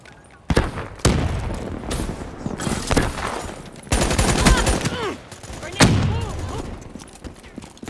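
Video game combat with loud bursts of automatic gunfire and a booming grenade explosion, arriving in several heavy clusters close by while voices call out between them.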